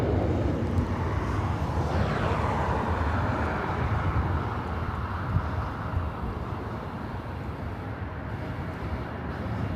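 A British Airways airliner at LAX taxiing toward a north side takeoff, a broad steady engine roar from a distance, holding even for the whole stretch.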